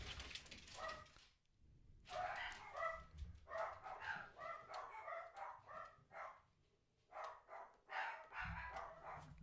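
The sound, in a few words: dogs barking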